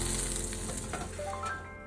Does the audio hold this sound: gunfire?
no